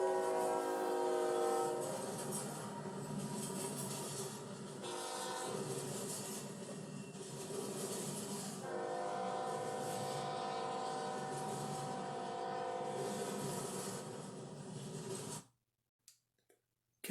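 Norfolk Southern freight NS216, led by Norfolk Western heritage locomotive 8103 with NS 4000, rolls past loud and close, a steady rumble of cars with two long horn blasts, then cuts off abruptly near the end.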